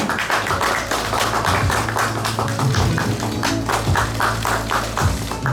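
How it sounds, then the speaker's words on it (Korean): An exhibition audience at Maru Art Center in Insadong applauds to welcome Gyeonggi governor Lee Jae-myung, steady close hand clapping from many people over a low hum of the hall. "여러분 박수로 맞이해 주십시오"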